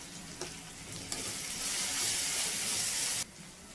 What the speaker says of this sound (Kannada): ಈರುಳ್ಳಿ ಸ್ವಲ್ಪ ಚೆನ್ನಾಗಿ ಬೇಯಲಿ.